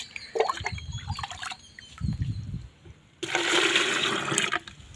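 Rice starch water is poured into a home garden mix for organic fertilizer, a steady splashing stream near the end, preceded by soft clinks and handling noises.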